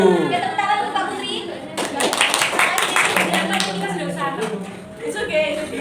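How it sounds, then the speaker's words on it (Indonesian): Students in a classroom break into clapping for a group presenter, a burst of quick, fairly close hand claps that rise partway through and then fade, with voices and some chatter mixed in. "Ya tepuk tangan untuk Pak Putri"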